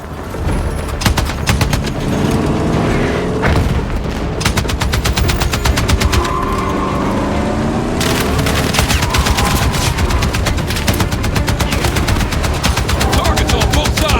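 Sustained automatic gunfire in Battlefield 6, rapid bursts cracking almost without pause for the whole stretch, loud and dense, with a few faint voices buried underneath.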